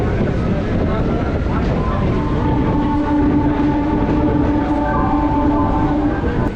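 A Chennai suburban electric train runs through Mambalam railway station, a loud continuous rumble of wheels and carriages with a sustained tonal whine, close and steady throughout.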